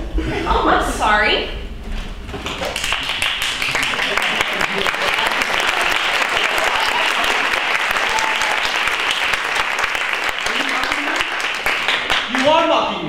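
Audience applause at a 2012 chamber opera performance, a dense sustained round of clapping filling the hall for most of the stretch, with brief talk and a little laughter near the start.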